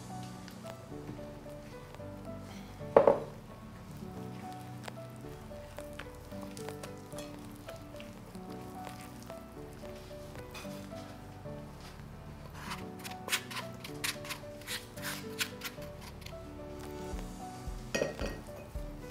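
Muffin batter with sun-dried golden raisins and flour is folded and stirred in a bowl, giving soft, repeated scraping and light clinking of a utensil, with one louder knock early on.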